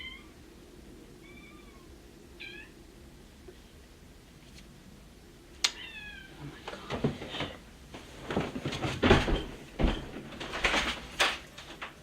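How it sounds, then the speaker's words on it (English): Cats meow outside a door, a few thin, short cries early on, followed by louder shuffling, knocking and movement as the door area gets busy. "you hear them cats?"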